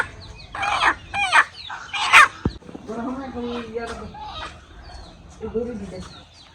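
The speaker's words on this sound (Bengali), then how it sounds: "আরেকটা মুরগি আম্মা ধরছে" Hens clucking and squawking nearby in loud bursts as one is being caught, with people talking over and between the calls.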